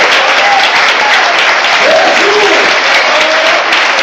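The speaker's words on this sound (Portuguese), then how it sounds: "você pode saudar com uma salva de palmas" A church congregation applauds in a steady, dense wash of clapping that stays loud and even for the whole stretch, with faint voices drifting through the noise.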